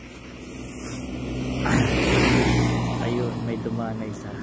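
A car drives past on a snow-covered road during heavy snowfall in Canada, a broad engine and tire swell rising and fading nearby over steady wind, with a voice speaking quietly underneath.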